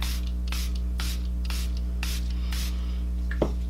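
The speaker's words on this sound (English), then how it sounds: "so I'm gonna spray my face before I put my lipstick on" Milani Make It Last setting spray misted onto a face in about seven quick bursts, each a short airy hiss at a steady rhythm, heard close over a constant electrical hum.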